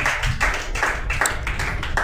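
A church congregation claps loudly in a steady rhythmic pattern of strong repeated beats, dense and close, with no speech.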